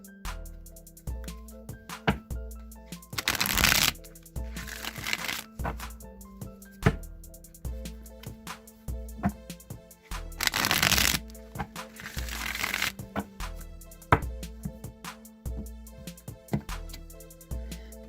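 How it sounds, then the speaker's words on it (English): Rider-Waite tarot deck shuffled by hand, two bursts of riffling card noise between steady soft music, close and clear. "now I'm going to shuffle the Rider-Waite deck a few times"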